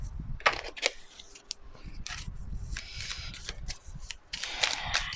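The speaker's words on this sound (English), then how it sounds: "We just shuffle again." Tarot cards being shuffled during a card reading, with repeated papery riffles and slides in short bursts, close and fairly quiet, alone without talk.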